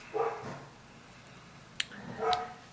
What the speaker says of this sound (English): And there's my dogs going again.